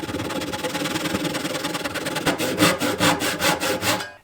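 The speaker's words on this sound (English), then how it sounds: "Put your fingernails there and then slowly go back and forth on it." A hand tenon saw cuts through wood with steady back-and-forth strokes, gentle and even at first, then quicker and louder, rhythmic rasping strokes close by.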